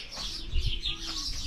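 Small birds chirp outdoors in summer, a few brief, fairly faint tweets over soft background noise.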